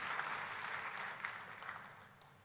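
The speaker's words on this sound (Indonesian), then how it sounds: "Oh kalau tepuk tangannya yang meriah saudaraku." A church congregation applauds during a sermon, a steady wash of many hands clapping that sounds fairly distant and soft, with no speech over it.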